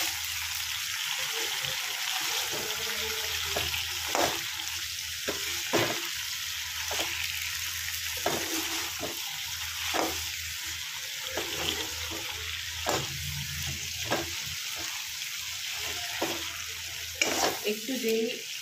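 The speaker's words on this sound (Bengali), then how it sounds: "তারপরে তেলে এটাকে ভালো করে টস করতে হবে।" Water lily stems tossed and stirred in hot oil in a pan over a low to medium flame, giving a steady close sizzle broken by repeated scraping and clattering strokes, with no talking.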